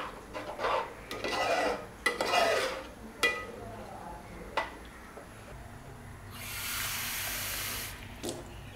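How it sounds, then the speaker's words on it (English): Water poured into a pot of rice for cumin-flavored jeera rice, with pouring and splashing bursts, clinks of a pan or utensil, and a steady rush of running water near the end. "So just observing the level of water, I've added the required quantity, and keep it to its maximum flame"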